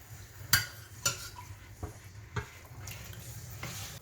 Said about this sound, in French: On en remet une ou deux louches.